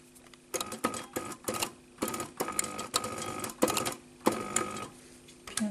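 A sewing machine stitches small points on a kit-made top in several short bursts separated by pauses, each a close rattling run of needle strokes.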